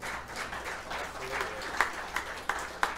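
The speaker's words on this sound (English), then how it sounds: "Hey, another round of applause for her." Scattered audience applause for a female singer at a small gospel music gathering, fairly quiet and thinning out, with a few sharp claps standing out near the end.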